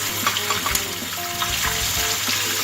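Onion, garlic, ginger and spices fry in a pan with a steady loud sizzle, broken by a few soft clinks and scrapes of stirring.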